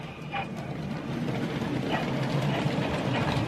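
A battery-powered toy train locomotive, with battery and motor in the tender, runs along its track with a steady rattling, whirring rumble that grows slightly louder, close by.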